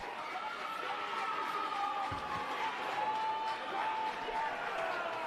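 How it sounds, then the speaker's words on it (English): A crowd cheers and murmurs steadily through a bout at an amateur sumo championship, the Consulate's Cup, with a dense, continuous roar and no break in the noise. "The crowd love that one."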